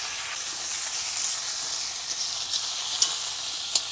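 Potatoes and sweet potato sizzle steadily in a pan with bay leaf and dried chilli, a continuous bright hiss with a few small pops and spits near the end.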